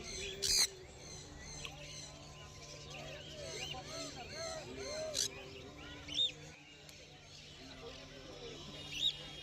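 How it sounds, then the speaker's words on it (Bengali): Conure parrots give sharp, piercing squawks at a busy pet bird market, several loud calls rising over a constant background of chatter, chirps and crowd noise. "এখানে কিছু কনুর পাখি আছে"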